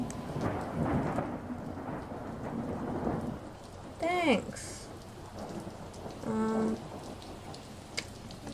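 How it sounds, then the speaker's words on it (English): Steady rain patters over a low rumble of thunder, with brief chirpy electronic tones and a short spoken word breaking in. "I like the raining sounds."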